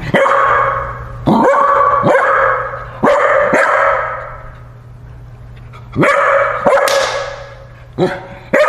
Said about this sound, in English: stop! Stop barking!